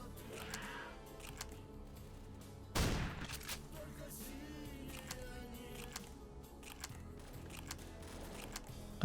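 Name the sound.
gunshots in a video game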